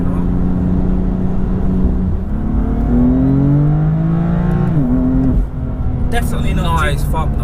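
A 2017 BMW M4 CS engine and exhaust rise in pitch as it revs up through a gear and shifts, a steady loud drone heard from inside the car, with people talking over it.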